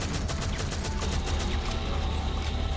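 Dense gunfire in Shadowgun Legends as a large alien's legs are shot, a steady, continuous stream of rapid weapon fire that stays loud and near for the whole stretch, with a low rumble underneath.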